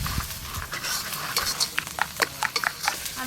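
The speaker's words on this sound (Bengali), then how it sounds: "সব কিছু একসঙ্গে ভালো করে মিশিয়ে নেব।" A spoon stirs cumin-coriander paste, dried chilli paste, turmeric, sugar and tomato together in a pan for a fish curry, giving a soft continuous sizzle broken by repeated close clinks and scrapes of metal against the pan.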